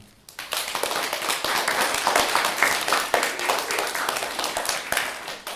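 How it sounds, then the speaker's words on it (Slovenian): An audience at a family theatre performance of Puss in Boots bursts into strong, sustained applause, many hands clapping steadily for over five seconds after a brief quiet start. "en močen aplavz"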